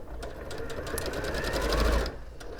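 An Elna sewing machine running a reverse stitch on a sashiko komebukuro basket, with a rapid rhythmic needle clatter and motor whir that builds, then stops abruptly, followed by a brief tick.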